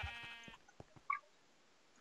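Sheep bleating in Minecraft: a single blocky, buzzing bleat up front, followed by a few soft clicks and a faint chime, with no talk.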